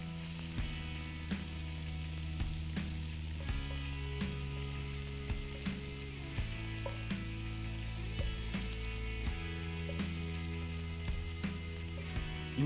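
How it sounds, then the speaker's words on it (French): Pieces of beef brown in a pan for estouffade de boeuf, giving a steady, soft sizzle with faint background music underneath. "Donc maintenant on fait colorer donc nos morceaux de viande"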